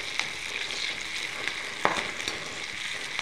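Green chillies fry in a hot pan for a dried small-fish fry dish, sizzling and crackling steadily. A spatula presses them down with a few distinct scraping taps. No one speaks.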